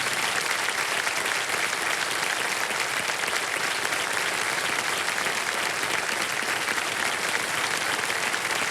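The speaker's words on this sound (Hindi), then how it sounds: "ताली बजती है जोरदार" Loud, dense applause from a studio audience on the KBC game show, sustained evenly throughout with no break and no talking over it.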